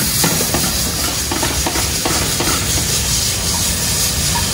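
Chili and ginger sizzle in a hot pan with a dense, steady hiss and crackle, loud and close throughout with no talk.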